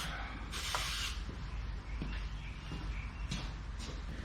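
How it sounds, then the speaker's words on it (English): Lubricant sprayed onto a seized rear-end part of a Honda CBR250RR MC22 motorcycle under restoration, heard as one loud half-second hiss near the start, then faint clicks and handling noises. "we'll give it a little bit of lube"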